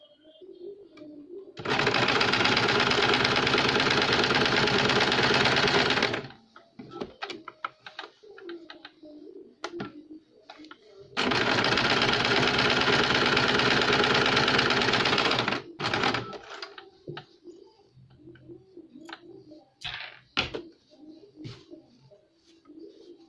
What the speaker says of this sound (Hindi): इसे 1/4 इंच पे सिलाई लगाएंगे तिरछी।